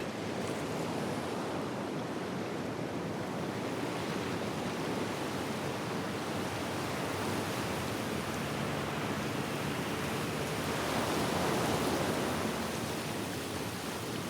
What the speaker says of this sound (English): The waves crashing against the reef, a permanent undertow.